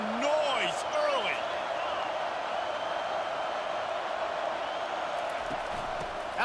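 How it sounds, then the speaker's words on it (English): Stadium crowd noise in a college football video game, Alabama at LSU, a steady roar of fans with whistles and whoops early on, holding at an even level throughout. "This crowd bringing the energy and noise early."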